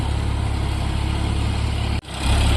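A tractor engine pulls a plough in low fourth gear at 1600 RPM, a loud steady low drone that dips sharply for a moment near the end and then comes back up heavier.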